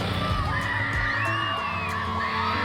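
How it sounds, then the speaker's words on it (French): A roadside crowd at a bike race: children shouting and spectators cheering and whooping in a dense, continuous, loud wash of voices, with occasional sharp bangs. "Des cris d'enfants, des parents passionnés"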